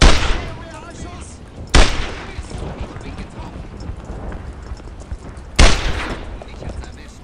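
Loud gunfire bursts in the World War II shooter Brothers in Arms: Earned in Blood, two sharp booming shots several seconds apart over a steady battlefield din.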